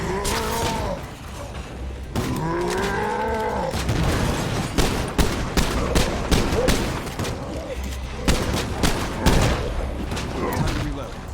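Gunfire in State of Decay 2 in a Lethal Zone, bursts of loud shots mixed with booms and mechanical clatter, fairly steady and close, with a voice talking over parts of it.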